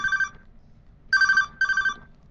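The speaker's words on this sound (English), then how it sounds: "The lecturer's phone goes off." A mobile phone rings during a lecture, three bright electronic tone bursts with pauses between them, fairly loud over a quiet room with no talking.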